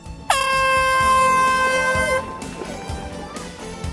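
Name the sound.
air horn starting a marathon race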